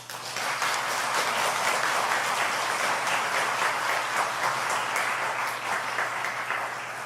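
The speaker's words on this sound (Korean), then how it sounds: "박수로 맞아요." A church congregation applauds warmly in a large worship hall, giving several seconds of steady, dense clapping that stays even before slowly tapering.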